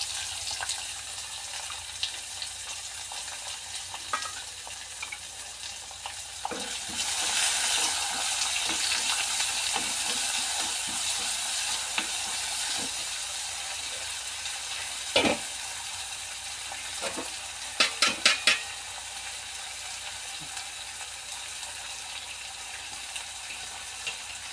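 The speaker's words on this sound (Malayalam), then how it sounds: "ഇനി നമ്മൾ അരിഞ്ഞു വെച്ചിരിക്കുന്ന ഇഞ്ചി വെളുത്തുള്ളി ചെറിയ ഉള്ളി തക്കാളിക്ക അത് അതിലേക്ക് ഇട്ടു" Chopped ginger, garlic, shallots and tomato frying and being stirred in a pan, a broad continuous sizzle that swells louder partway through, with scattered scrapes and a few sharp clinks of a spoon against the pan.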